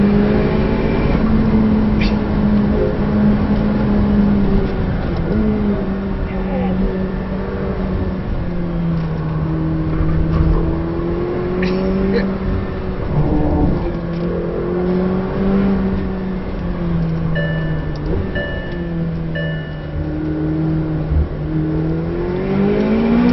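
A McLaren 720S engine drones loudly from inside the cabin while lapping the Nurburgring, its pitch rising and falling through repeated accelerations and shifts over a steady road roar.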